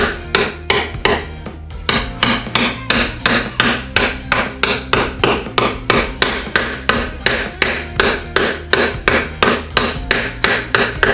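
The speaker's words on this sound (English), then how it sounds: "we get a striking device, and we tap her home" Steady metallic taps of a soft brass hammer seating a part in a Wildcat 1000 rear differential, dozens of evenly spaced strikes with a faint ringing tone, close and loud, with no voices.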